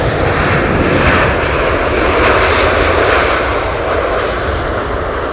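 An airplane flaring over the runway on landing, a loud steady roar of aircraft engine noise filling the whole stretch without pause.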